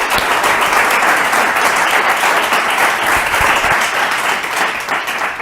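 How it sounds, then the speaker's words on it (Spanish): An audience applauds speaker Jesús Figueres after a conference talk on big data and economic development. The clapping is dense, loud and steady throughout, easing off slightly near the end. "Un aplauso también."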